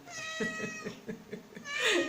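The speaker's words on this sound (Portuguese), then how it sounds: "Gente, o meu gato chegou." A house cat meows several times in a drawn-out, wavering series, close and fairly loud, ending in a higher, rising cry.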